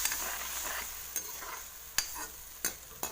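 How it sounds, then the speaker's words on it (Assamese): A spoon beats and stirs a sour fish curry mixture in a pot, giving several sharp, spaced clacks over a soft, continuous hiss, close up with no voices. "এইখিনি খুব ভালদৰে ফেটি ল'ম"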